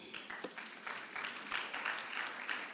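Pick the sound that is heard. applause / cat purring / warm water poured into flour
applause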